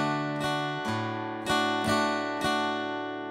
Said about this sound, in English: an alternating bass note strum